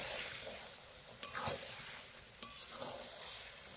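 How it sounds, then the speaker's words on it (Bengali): Mutton in a pan on the stove gives a steady close sizzle of frying, broken twice by sharp scrapes of a spoon stirring the meat. "সঙ্গে মাংসটা ভালো করে কষিয়ে নেব"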